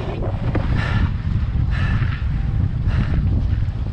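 Strong apparent wind roars across the microphone while windfoiling on a Gong Allvator XXL foil, a steady buffeting rush with gusty surges, loud and close, no talking.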